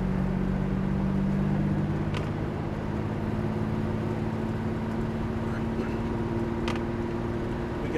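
A Lamborghini on a track, with a steady engine drone that drops slightly in pitch as the car slows and changes gear, and a couple of faint clicks over the constant rumble.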